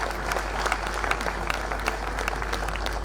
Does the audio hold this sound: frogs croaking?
no